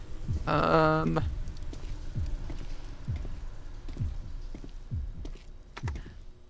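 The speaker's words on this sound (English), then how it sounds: "I can hear my heartbeat." A thumping heartbeat pulses steadily in a horror video game, about one beat per second, low and throbbing under a faint ambient hum, with a brief tonal chime near the start.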